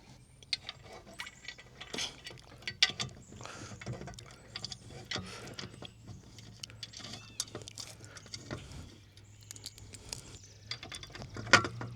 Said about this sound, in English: Put those on with your 4 small bolts.